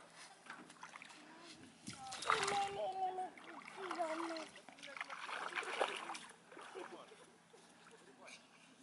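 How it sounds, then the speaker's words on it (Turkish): Hands being washed with water in a village home: soft splashing and sloshing water in bursts, fairly faint, under a child's and adult's talk. "ellerimi yıkayacağım"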